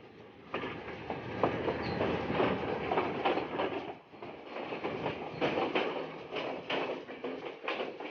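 A passenger train between Jaffna and Colombo, Sri Lanka, rumbles along the rails with a steady clickety-clack, heard from inside at moderate loudness.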